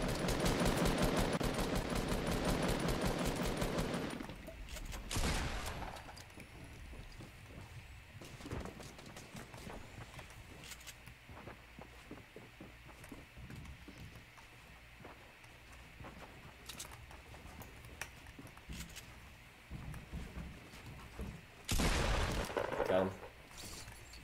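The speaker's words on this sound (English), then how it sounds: "It's a gold grenade launcher." In Fortnite Battle Royale, a gold grenade launcher fires, with loud blasts at the start, again shortly after, and near the end, separated by quieter stretches of game noise and scattered gunfire.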